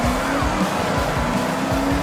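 Engine of a 1970s GMC Jimmy racing in Forza Horizon 6, a steady, loud droning roar with tire noise underneath and no talk.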